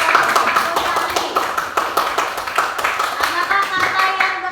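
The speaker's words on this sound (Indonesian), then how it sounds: "tepuk tangan buat Gus Sandi." A classroom group claps with sharp, distinct hand claps in a fairly rhythmic pattern, loud and close, continuing throughout.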